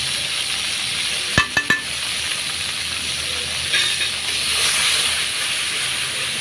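Fish curry of tilapia with data stems and potatoes sizzles and hisses steadily in an oily pan as chili and turmeric powder go in. A few quick scrapes and taps of a spoon against the pan sound close by.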